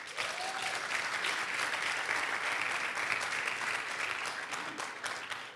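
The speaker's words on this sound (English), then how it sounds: "Please, let's give them a round of applause." A hall audience applauds school principals hosting a drug-free generation event, a sustained, even roar of clapping from many hands that carries on steadily for several seconds before tapering slightly at the end.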